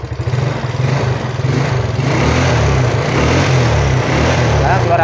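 A Yamaha Mio Soul scooter engine, freshly fitted with new piston and rings, fires up and runs with a steady, close mid-pitched putter, growing slightly louder after the first couple of seconds.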